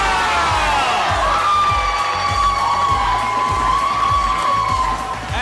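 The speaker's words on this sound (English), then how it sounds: "that has the home fans and a good crowd for this Sunday evening game on their feet" A home crowd at a Sunday evening women's football match in New South Wales roars and cheers steadily after a goal, loud and sustained with whoops rising above the sound of the packed stands.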